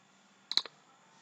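A few quick computer mouse clicks, close and fairly faint, in a short cluster of about three against a quiet background while an object is being outlined on screen.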